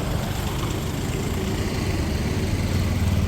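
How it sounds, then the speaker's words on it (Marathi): Steady low rumble of road traffic and engines, continuous and fairly distant, with no voices. "पाठीमागे गाड्यांचा आवाज भरपूर येतोय."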